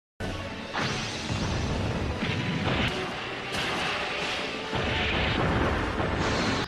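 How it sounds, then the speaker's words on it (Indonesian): Combat helicopters open fire on Godzilla in a film scene, with heavy booming blasts and crashing impacts in loud successive bursts over a dense rumbling roar. "beberapa helikopter tempur langsung melepaskan tembakan ke arah Godzilla"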